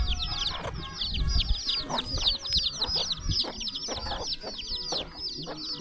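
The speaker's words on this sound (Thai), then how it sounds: "ไก่มันก็จะกินแซ่บๆอยู่พี่น้องเนี่ย" Chickens cluck and squawk as they feed on scraps on a rural Thai farm, a busy chorus of repeated short calls, fairly close and steady throughout, with a rooster-like call mixed in and no talk.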